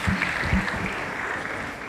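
An audience claps for a speaker at a physiotherapy induction ceremony, a dense steady patter of many hands filling the room for about two seconds.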